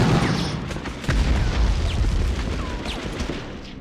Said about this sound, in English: I almost didn't see that grenade in time.